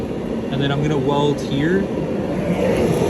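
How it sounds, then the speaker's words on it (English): Space heater running in a garage beside a Jeep Grand Cherokee WJ, a steady airy whir droning throughout while someone talks over it nearby. "so sorry about the heater noise"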